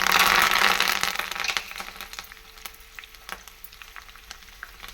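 Sliced garlic and curry leaves fry hard in hot oil for a dal tempering, with a loud dense sizzle at first that settles into a quieter crackle with scattered pops.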